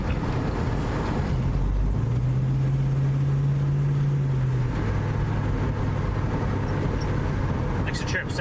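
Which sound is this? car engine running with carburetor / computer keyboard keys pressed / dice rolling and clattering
car engine running with carburetor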